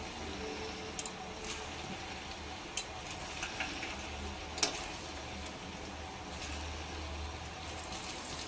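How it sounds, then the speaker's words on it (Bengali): Sweet potato pitha frying in oil in a home kitchen, a faint, low bubbling hiss with a few soft clicks and pops. "এবারে আমরা একে একে সব পিঠেগুলো দিয়ে দিচ্ছি, একে একে ভেজে নেব"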